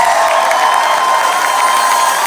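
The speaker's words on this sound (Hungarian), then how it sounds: "Egy hatalmas tapsot szeretnék kérni a srácoknak." A concert crowd at the A38 venue applauds the band, a steady dense wash of clapping and cheering that holds at an even, loud level throughout.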